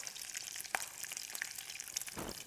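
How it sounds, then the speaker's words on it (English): Flour-coated food frying in hot oil in a kitchen, a soft continuous sizzle with faint crackles and pops, heard close but quiet, with no talking. "Okay, that's frying very quickly."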